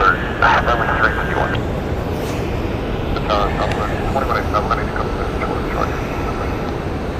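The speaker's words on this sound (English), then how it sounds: "This plane you're currently looking at is Southwest Airlines in its Desert Gold retro livery." Southwest Airlines Boeing 737 MAX 8 in Desert Gold retro livery at Phoenix Sky Harbor Airport: a continuous loud jet engine roar, with radio chatter over it at the start.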